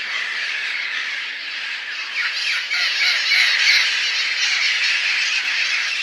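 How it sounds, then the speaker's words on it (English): A large flock of wild parrots squawks continuously in Los Angeles, many harsh overlapping calls forming a dense, loud chatter that swells slightly midway and keeps going without a break. "Wild parrots."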